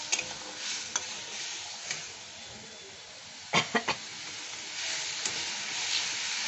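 Vegetables being stirred in a pan with a steady hiss of frying before chhana is added, with a few sharp scraping clinks from a spatula midway and soft sizzling throughout.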